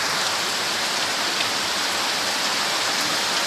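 Heavy rain pours down steadily alongside flowing water, making a dense, loud, unbroken hiss with no voices.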